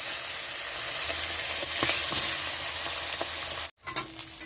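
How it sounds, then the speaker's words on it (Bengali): A fish head frying in hot mustard oil in a wok gives a steady, close sizzle and crackle, with a brief cut in the sound near the end before the frying resumes. "কড়াইতে সর্ষের তেল দিয়েছি, তেলটা গরম হয়ে গেছে। তো এখন মাছ মুড়োটা ভাজার জন্য ছেড়ে দিচ্ছি।"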